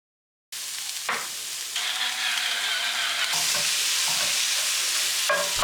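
Beef stroganoff from a packaged mix cooking in a pan, a continuous close sizzle with stirring scrapes and an occasional utensil knock.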